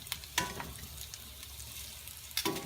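Russet potatoes pan frying with rosemary, thyme and basil, a quiet, steady sizzle and crackle broken by two sharp utensil clicks near the start and end.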